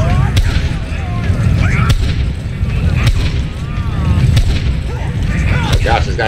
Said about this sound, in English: this guy's taking shotgun blasts in her face like crazy